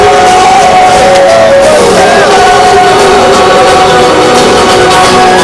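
A large live crowd at a Sidaction charity launch event roars and yells in a sustained, loud wash of cheering and shouting, with no clear break across the whole stretch.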